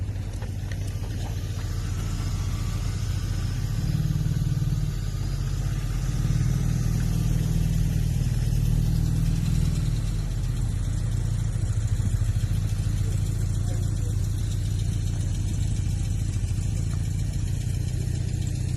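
Classic cars, a Rolls Royce and a Morris Minor, pull away: a steady low engine rumble that swells around the middle as they accelerate off, then holds at a moderate level throughout with no talking.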